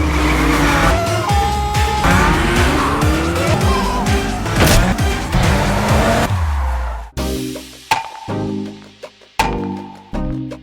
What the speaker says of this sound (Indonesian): Raj, sedang memacu adrenalinnya dengan mengkepot-kepot mobil tersebut, dan dia ditemani Sidhu